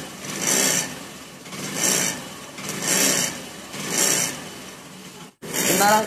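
A loose riveted number plate on a motorbike rattles with a harsh, rasping buzz in five regular bursts, rising and falling with the engine.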